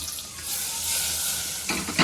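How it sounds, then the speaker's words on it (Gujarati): Mustard seeds and cumin sizzle and crackle in hot oil inside a pressure cooker while being tempered, a short, close, steady frying hiss. "કુકરમાં રાઈ જીરુંનો વઘાર કરી અને ઘડીક હવે સડવા દઈ તેલમાં"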